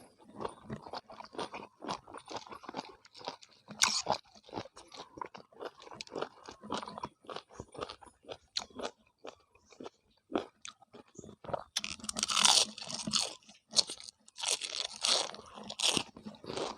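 Loud, close crunching and chewing of firm, rubbery giant squid tentacles, bite after bite, with wet mouth sounds and no talking.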